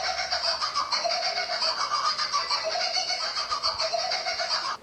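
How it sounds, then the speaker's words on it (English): The laughing call of a kookaburra, an Australian kingfisher, sped up into a dense, high, chattering cackle that runs continuously and loudly without pause. "It was actually the sped up laughter of the kookaburra"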